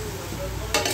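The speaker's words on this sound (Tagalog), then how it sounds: "Haluin natin para" Adobo with soy sauce sizzles steadily in a pan while being stirred, and a louder scraping stir comes near the end.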